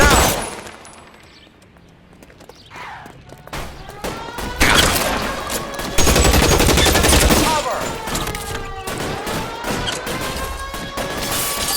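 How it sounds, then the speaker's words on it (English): A loud shootout in the 1940s Los Angeles detective game LA Noire, with covering fire from several guns in dense, overlapping volleys and sharp cracks. The gunfire starts quietly, then grows heavy and continuous, with brief shouted voices. "Lay down some covering fire."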